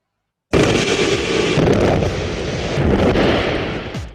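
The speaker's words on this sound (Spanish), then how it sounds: "Mientras la roca explota, la materia prima del acero es lanzada a la superficie en forma de taconita" Rock is blasted in an open iron ore (taconite) mine: a sudden loud explosion bursts out after a short silence, followed by a sustained rumbling roar of debris that fades slowly.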